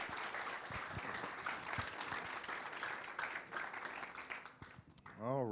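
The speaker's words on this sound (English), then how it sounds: "Give a great round of applause" A church congregation applauding during a morning service, sustained moderate clapping from a crowd for several seconds before fading, then a voice begins speaking at the end.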